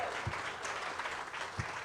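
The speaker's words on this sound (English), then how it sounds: "Big round of applause for them." Audience applause for two young girls who opened the doors at a live sports-club show: a steady, dense wash of clapping from a crowd, close and unbroken for about two seconds, with no talking.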